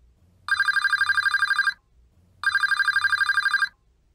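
A telephone rings on the line after a number is dialled, two long electronic trills separated by a pause, clear and alone with a faint hum between rings.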